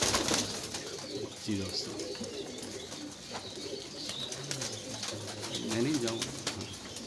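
Fakir gul pigeons cooing close by in a repeated throaty rolling pattern, heard under someone talking and other background chatter.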